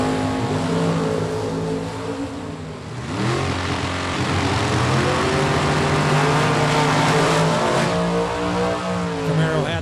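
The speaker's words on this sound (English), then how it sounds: "Coming up next, the Monte Carlo left side of Pete Brown, taking on Chase McKay's Camaro" Monte Carlo and Camaro drag racing cars roar loudly and continuously at close range, engines revving with rising and shifting pitch, while an announcer talks faintly over the noise.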